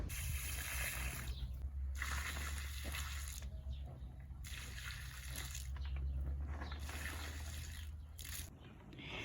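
Water pours into shallow soil furrows in steady broad gushes, starting and stopping in several bursts, close by, with a low hum underneath.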